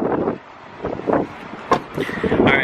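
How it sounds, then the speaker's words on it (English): Gusty wind buffets the microphone with low rumbling bursts, mixed with faint background traffic-like noise. "so it's super windy"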